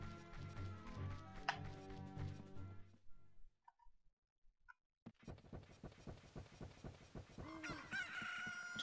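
A video game chicken from The Legend of Zelda: Ocarina of Time crows and clucks over game music, goes silent briefly, then returns with more clucking.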